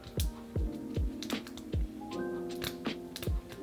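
A lock pick works a Master padlock at close range, giving quiet, irregular metallic clicks and taps with faint ringing, a handful of distinct ticks over a few seconds.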